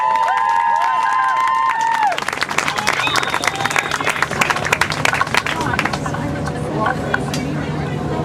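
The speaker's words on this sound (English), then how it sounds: "Let's give her a round of applause" A strike rally crowd claps and cheers for a speaker, dense scattered clapping and shouts following a brief amplified tone, with voices and chatter mixed into the noise.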